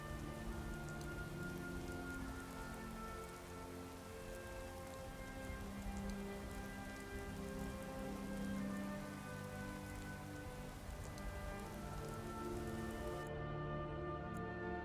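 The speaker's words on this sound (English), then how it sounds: "Oh, the rain's gone." Steady rain falls in the video game Skyrim, a faint, even hiss of drops on surfaces that continues unbroken with no voices, then cuts off near the end.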